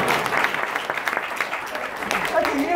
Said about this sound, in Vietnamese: Và đấy, một tràng vỗ tay cho anh đẹp trai này.